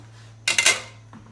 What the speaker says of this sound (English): I will put the lid in the sink, get it out of our way.